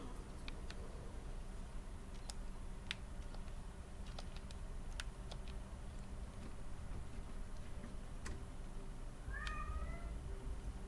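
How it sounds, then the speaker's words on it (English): A cat meows softly in a quiet room with faint clicking in the background. There are scattered light ticks throughout and a short meow near the end. "Meow."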